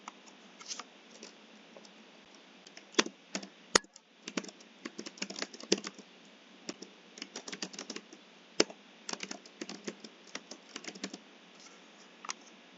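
Text being typed on a computer keyboard: quiet, irregular runs of soft key clicks close by, with brief pauses between bursts and no voices.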